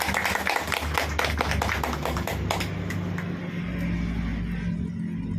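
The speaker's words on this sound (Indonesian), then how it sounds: "Tepuk tangan." People clap at a graduation thanksgiving service, a dense run of hand claps at the start that thins out and gives way to a steady low rumble of the room.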